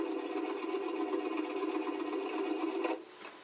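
An old antique sewing machine runs with a steady mechanical whir and rattling treadle-like clatter, continuous and moderately close, before cutting off abruptly near the end.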